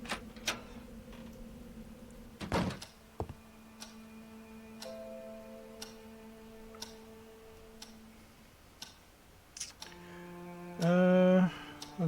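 Grandfather clock ticking gently in the horror game Scratches: a steady soft tick-tock that runs through a quiet room, with a few sharper clicks, a faint sustained tone, and a louder buzzing burst near the end.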